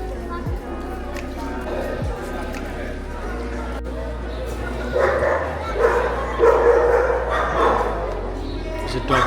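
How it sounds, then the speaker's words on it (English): A dog barks and yips on a busy street in San Sebastian, several sharp barks and whimpers mixed with crowd noise and people talking nearby. "There's a dog just attacking someone there"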